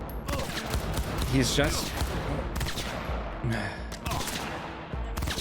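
Gunfire in the video game Cyberpunk 2077, with bursts of shots and impacts running through the whole stretch while someone talks over the action.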